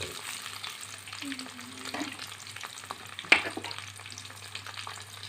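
Sliced onion, green chillies and curry leaves sauté in a pan for a brinjal theeyal, giving a soft, low sizzle with light stirring and one sharp tap of a spoon midway.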